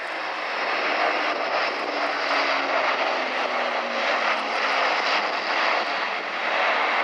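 Airbus A400M military transport aircraft in a flying display at RIAT 2017, a loud sustained turboprop roar with slowly shifting tones as it turns overhead.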